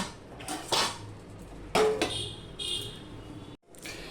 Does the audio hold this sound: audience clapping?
no